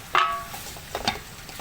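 Ground cumin, turmeric and coriander powder being stirred in a pan, heard as a sharp spoon scrape against metal followed by softer scraping and a light sizzle close by.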